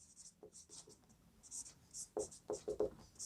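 A pen scratches the solution onto paper in short, quiet strokes, faint at first then a quicker run of several distinct scribbles near the end.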